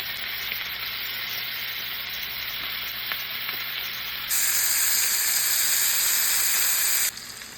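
Meatballs browning in a pan on medium heat give a steady close sizzle and frying crackle that runs throughout and grows brighter and louder partway through, with no voices.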